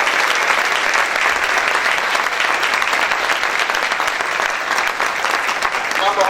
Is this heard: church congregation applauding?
yes